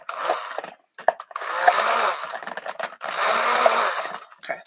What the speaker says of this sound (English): I'll stick blend it.